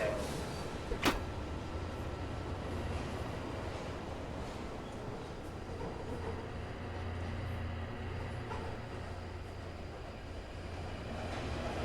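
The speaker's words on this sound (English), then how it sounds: "Mind the gap. Doors closing." Train doors on a London Overground service sliding shut in the post-apocalyptic London setting of a Fallout game, a single sharp clunk near the start followed by a steady low rumble of the carriage and faint station ambience.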